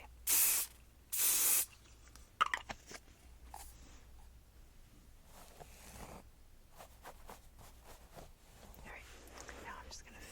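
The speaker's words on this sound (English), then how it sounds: "Now I'm going to spray with a little bit of hairspray." Two quick, loud hissing bursts of hairspray up close, followed by quiet rustling and soft hair-handling noises.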